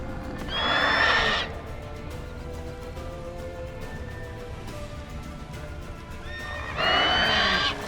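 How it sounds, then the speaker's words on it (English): A horse neighs twice in The Witcher 3, loud shrill whinnies at the start and end with steady galloping hoofbeats and game ambience between them. "Run, Roach."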